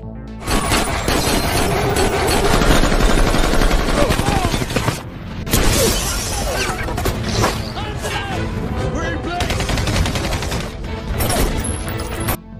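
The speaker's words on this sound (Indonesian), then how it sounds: "Di tengah baku tembak tersebut, Mickey dan anak buahnya yang lain muncul, dan langsung melakukan serangan balik" Dense bursts of automatic gunfire crackle through an action film shootout, rapid volleys piling on each other with only brief gaps, loud and close, mixed with crashes and impacts.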